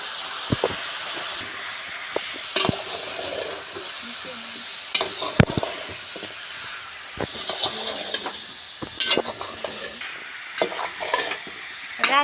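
Hilsa fish fries in oil with chili powder, turmeric, salt and ground ginger-garlic paste. A continuous sizzle runs throughout, broken by sharp metallic clanks and scrapes of a spatula against the pan.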